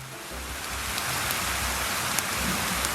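Steady rain pours down in a dense, even hiss with scattered drop ticks, continuous and close throughout with no voices.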